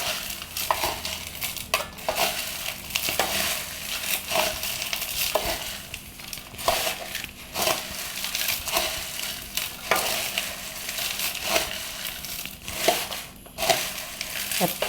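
A homemade fried snack mixture being stirred with spices in a pan, repeated crunchy scraping and crinkling strokes over a faint sizzle, close and fairly loud throughout.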